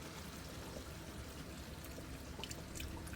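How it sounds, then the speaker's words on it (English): Beef broth pours steadily into a pot of hamburger stew, a continuous soft liquid stream and splash heard close and alone for several seconds without any talk. "we're also going to add more beef broth, because it kind of needs a little bit more"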